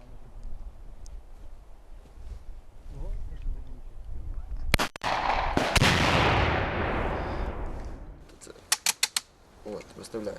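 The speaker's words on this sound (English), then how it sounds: "that's a grenade launcher he's got" A grenade launcher fired by a volunteer fighter in Ukraine gives one loud, close blast with a long decaying roar. A few sharp cracks follow near the end, with talking in the background.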